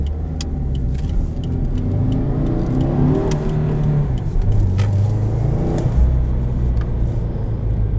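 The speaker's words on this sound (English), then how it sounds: "The exhaust has such a great tone to it." A 2019 Subaru WRX engine revs up and down through its exhaust, a loud, throaty rumble that rises and falls twice, close by.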